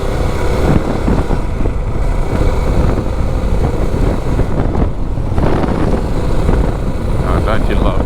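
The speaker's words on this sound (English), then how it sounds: "don't you love that low end torque this bike's got? It can just chug its way out of anything." A Suzuki DR 650 motorcycle engine chugs at low revs while riding, giving a steady low rumble that is heavily masked by loud, constant wind buffeting on the microphone.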